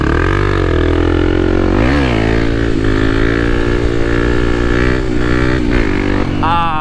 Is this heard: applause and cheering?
no